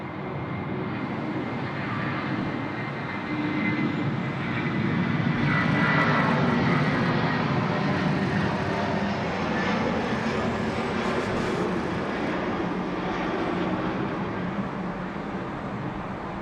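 An airliner lands on runway 16 right at Sydney Airport, giving a continuous loud engine roar that swells slightly and then holds steady, heard from the ground nearby with no voices.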